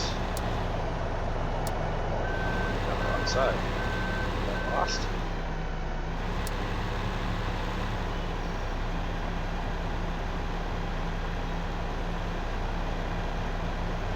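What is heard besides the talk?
trucks in traffic with reversing beeps, Farming Simulator 15 video game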